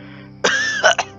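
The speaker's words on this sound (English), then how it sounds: "The old engine coughed and brought Oliver's attention back." An old steam engine gives a loud, close cough as a story sound effect: one rough, sustained rasp followed by two short, sharp bursts, heard alone.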